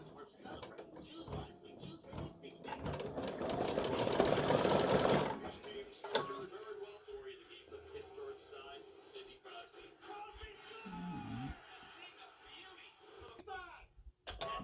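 An embroidery machine stitches a stem stitch outline for a small flower bud on a crescent moon design, running loud and dense at first, then settling into a quieter mechanical whirr with faint ticks and creaks, a voice occasionally in the background.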